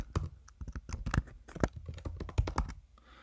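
Computer keyboard typing while renaming a spreadsheet sheet, a close, quick run of irregular key clicks and taps that stops near the end.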